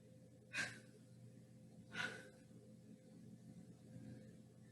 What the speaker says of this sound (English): my breathing is so motivational